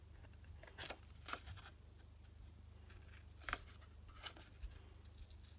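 Scissors snip through paper in a few quiet, separate cuts while a crafter cuts out a pair of paper eyes, with short sharp bursts spaced over a faint, still background.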